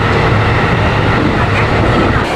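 Train ride from Kyoto to Himeji in Japan, a steady loud rumble of the carriage with a low engine drone and faint rail clatter throughout, no talk.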